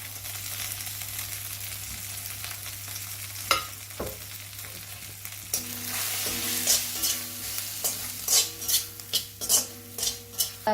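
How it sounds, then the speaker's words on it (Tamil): Brinjal pieces fry in a hot pan with garam masala and dry mango powder, a steady loud sizzle under scraping stirs that grow into a quick run of sharp spatula clinks toward the end. "கத்திரிக்காய் நல்லா இப்படி பெரட்டி விடுங்க"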